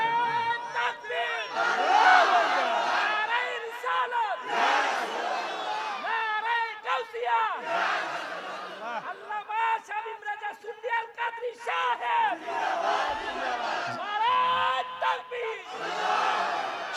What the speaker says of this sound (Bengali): এবার হুজুর একটা জোরে তাকবীর।